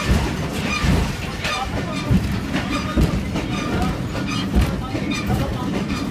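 A train rumbles steadily nearby at Jhelum Railway Station on the Grand Trunk Road, with faint rhythmic wheel clatter, while people talk intermittently over the noise.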